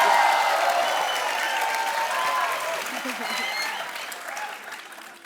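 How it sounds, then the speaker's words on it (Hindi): A studio audience at an Indian television comedy show applauds in a steady, dense wash of clapping that starts loud and slowly fades, with faint voices mixed underneath. "इसका सिर्फ तालियां।"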